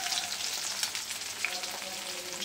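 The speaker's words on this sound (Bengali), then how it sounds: "আর মাছ একটু কড়া করে না ভাজলে না হয় না।" Fish frying hard in a pan in a home kitchen: a steady, fairly quiet hiss of sizzling oil with small crackles and pops throughout.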